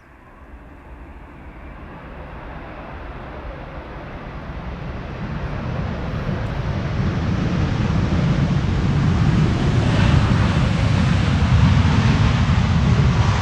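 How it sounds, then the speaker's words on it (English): A Delta Air Lines A330neo landing on runway 18R at Amsterdam Schiphol in windy weather uses thrust reversers, a broad rushing roar that swells steadily louder and holds at full strength near the end. "Little bit of reverser use there, nice way to start the stream."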